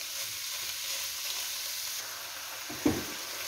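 Ground beef crumbles sizzle and fry steadily with chopped vegetables in a pan for a volován filling, a continuous close hiss with a single brief scrape near the end.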